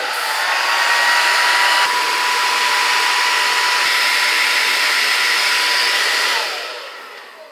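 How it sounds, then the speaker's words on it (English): A three-setting blow dryer runs on medium heat at medium-high power, a steady loud whoosh that holds for about six seconds before winding down. "I'm using medium heat because I have 3 heat settings in my blow dryer."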